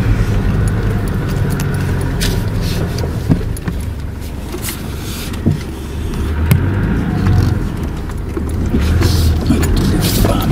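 An off-road vehicle on a guided tour in the Carpathians rumbles steadily and close, with rattles, bumps and clunks from the rough track over about ten seconds and no talking.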